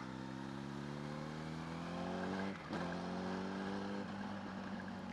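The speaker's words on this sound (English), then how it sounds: "This one accelerates pretty quick." A supermoto motorcycle engine accelerates with a steady, rising drone that climbs in pitch, shifts briefly, then climbs again. It is fairly faint and heard from the rider's position, with no talking.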